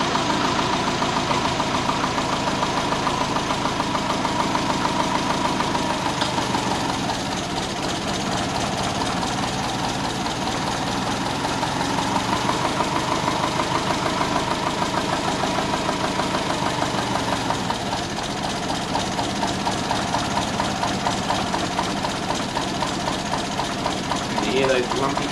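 Tuned big-turbo Subaru Forester engine idling with lumpy cams during street tuning: a continuous, uneven, loping rumble close by with a mechanical clatter, while a person talks over it.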